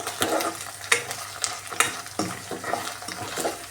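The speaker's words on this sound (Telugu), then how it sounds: "బాగా వేగాక ఒక రెండు నిమిషాలు ఫ్రై చేసుకుందాము" Long-cut green chillies fry in a pan for egg fried rice. A close crackling sizzle runs throughout, broken by repeated spatula scrapes and taps against the pan at an irregular rhythm.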